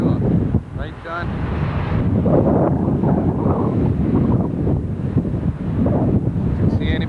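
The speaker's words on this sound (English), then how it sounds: "wind is blowing that way, it'd blow right up onto the shore." Wind blowing hard at a shore near water, a loud continuous rumbling buffet across the mic, with a voice briefly heard partway through.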